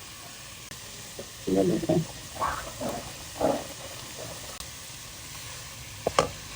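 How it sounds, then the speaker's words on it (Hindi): Radish leaves cook in a pan with a soft sizzle and hiss, broken by several stirring scrapes and a sharp clink near the end. Someone speaks briefly. "देखते हैं कि मूली हमारी डाल गई है।"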